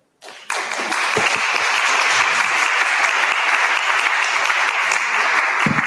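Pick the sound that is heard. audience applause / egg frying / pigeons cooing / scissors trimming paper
audience applause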